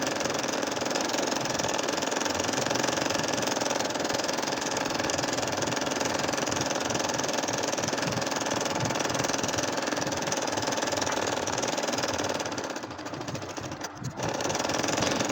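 An electric sewing machine stitches a nakshi kantha quilt with a steady, fast mechanical whir and rapid needle clatter that runs close and continuous, easing briefly near the end.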